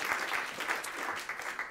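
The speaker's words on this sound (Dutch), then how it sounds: "Geef hem eerst een hartelijk applaus." An audience at a literary interview event with an author claps warmly, a short burst of applause at moderate distance with no talking.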